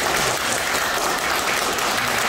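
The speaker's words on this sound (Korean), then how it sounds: "우리 대표이사님께 큰 박수 한번 좀 부탁드립니다." A dense, steady burst of audience applause for the company CEO closes a visiting lecture at Samjin Industry's Jeonju plant. The clapping stays loud and even throughout, with no voices over it.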